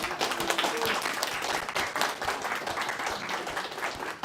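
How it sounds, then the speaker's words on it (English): Audience clapping at a community transit meeting, a steady spread of hand claps at moderate level lasting throughout, with no talk over it. "We should give RTD an actual round of applause."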